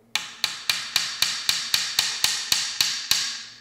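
A hammer drives a short nail into a wooden honeybee comb frame with eleven sharp, evenly spaced taps at a steady quick rhythm, each ringing briefly, close and loud with no talking.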